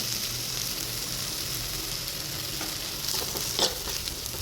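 Turmeric and chili powder fry in a pan for a Kottayam-style sardine curry, a dense, even sizzle running throughout while a spoon stirs and scrapes, with one louder clatter near the end.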